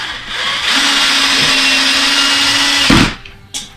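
A power drill drives a screw into a ceiling joist beside an existing nail while a ceiling fan is mounted: a close, steady motor whine lasting about two seconds, ending with a short clunk as the screw seats.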